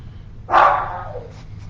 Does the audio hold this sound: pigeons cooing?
no